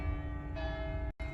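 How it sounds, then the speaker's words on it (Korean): Church bells ring in Venice, heard from a hotel terrace as a steady, sustained metallic tone over a constant low background hum, with a brief dropout near the end. "지금 종소리가, 교회 종소리가 들리네요."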